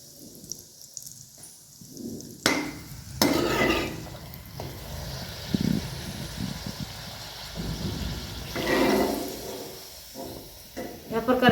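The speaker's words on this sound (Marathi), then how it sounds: "या प्रकारे लालसर असे तळून घ्यायचे" Colourful puris deep-fry in oil with an uneven bubbling crackle that swells and fades in bursts, plus occasional sharp clatters and a voice speaking briefly.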